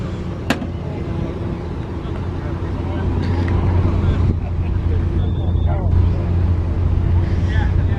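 Classic cars such as a Jaguar XJS, Ford XR3i, Jaguar XK8 and Chevy Corvair roll into an outdoor car show at a transport festival, with a steady low engine rumble and wind buffeting the microphone; voices talk nearby.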